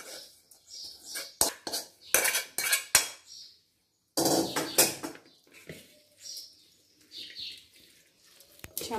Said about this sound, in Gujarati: આમ હલાવતો જશું